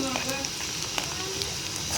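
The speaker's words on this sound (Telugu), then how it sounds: "ఎరుపు రంగులోకి వచ్చేంత వరకు ఇలా తిప్పుతూ ఉల్లిపాయలు అనేవి వేపుకోవాలండి" Chopped onions sizzle in a pan as they are stirred for an ivy gourd curry, a constant close crackle with small pops, while a voice talks over it.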